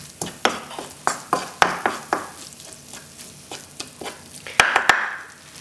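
A spoon stirs browned, caramelized onions in a frying pan. The scrapes and knocks come in a quick, irregular rhythm over a soft sizzle, with a couple of louder metallic clacks near the end.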